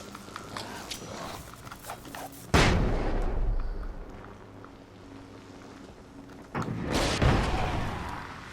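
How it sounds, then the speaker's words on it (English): Flare gun fired in the video game Alan Wake's American Nightmare: two loud bursting blasts a few seconds apart, each with a long hissing, rumbling tail, over a low game ambience. "You just gotta flare gun that ass."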